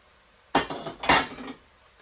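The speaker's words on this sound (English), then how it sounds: "Add the noodles and the mince" Noodles and mince tipped into a pan and mixed, a short run of clinks and scrapes of utensil against metal pan, close and fairly loud, a few quick knocks over about a second.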